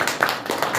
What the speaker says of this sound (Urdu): تالیاں بجا دیجیے اور ان کا استقبال کیجیے